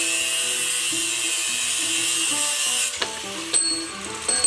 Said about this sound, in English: I'm gonna cut on the left side of the tape, keeping the longer part of the rod, and this exactly 9 inches.